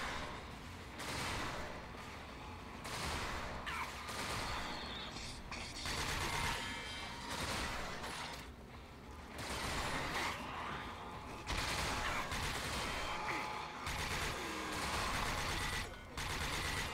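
Continuous heavy gunfire from a powerful weapon in the shooter game Rage, with repeated blasts and mechanical clatter running throughout at moderate level, no speech.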